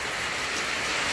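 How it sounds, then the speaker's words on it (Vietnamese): Rain falls outdoors at a rainforest location, giving a steady, dense hiss of drops that stays even and fairly loud throughout, with no talking. "Ngoài trời bên ngoài là đang mưa"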